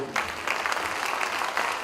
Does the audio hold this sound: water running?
no